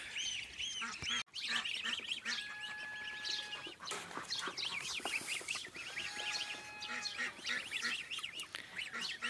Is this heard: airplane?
no